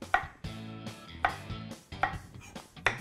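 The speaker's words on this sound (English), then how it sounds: "And I slice it really fine." Ginger sliced on a mandoline: four sharp, evenly spaced slicing strokes, close and fairly quiet, each a crisp scrape followed by a brief clatter.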